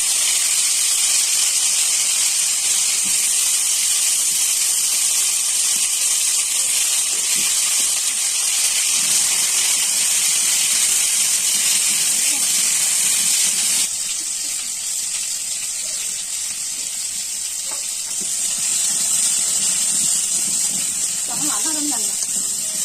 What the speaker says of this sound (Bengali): আলু ভাজা শুরু করে দিয়েছে